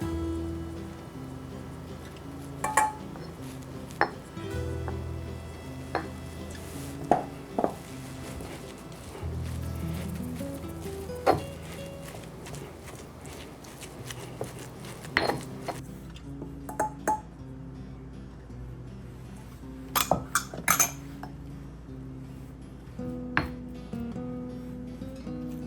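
Sparse clinks and light ticks of dishes and utensils sound as cheeses go into basil pesto pasta with pine nuts, scattered irregularly over a quiet room hum.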